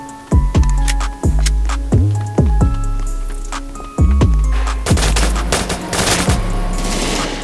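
Pistol gunfire in a first-person shooter video game, a series of sharp, loud single shots at an uneven pace, some in quick pairs, with a busy burst of game noise near the end.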